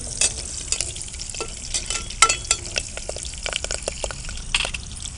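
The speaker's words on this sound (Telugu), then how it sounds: "కరివేపాకు వేసిన తర్వాత చిట్ అంటుంది కదా" Curry leaves and onions sizzle in hot oil, with sharp crackling pops scattered over a continuous frying hiss and occasional stirring scrapes; close and fairly loud, with no voices.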